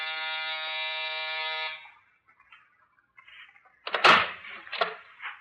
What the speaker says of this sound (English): That's the buzzer over there.